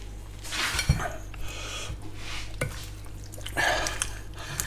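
A spoon stirs coconut milk and Thai green curry paste in a pot, giving soft wet swishes and squelches with occasional light clinks of metal against the pan.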